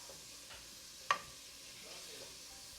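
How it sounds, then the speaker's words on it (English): Bacon sizzling in a pot for clam chowder gives a quiet, steady crackling hiss, with one brief sharper pop in the middle of an otherwise even fry. "I hope you can hear the sizzle of that bacon"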